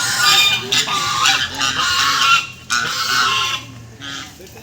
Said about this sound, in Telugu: అగో చూడగా బాతులు